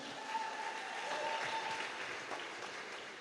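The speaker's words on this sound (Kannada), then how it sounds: "ನಿಮ್ಮೆಲ್ಲರ ಜೋರ ಚಪ್ಪಾಳೆ, ಕಮಾನ್." An audience at a seminar in Karkala claps steadily for a few seconds, a dense, even patter of applause that holds without voices on top.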